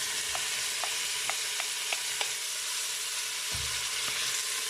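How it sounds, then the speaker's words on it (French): Onions browning in a Cookeo multicooker give off a steady, fairly faint sizzle, with a few light utensil clicks scattered through it and a soft thump near the end. "Et maintenant, j'ajoute mes oignons."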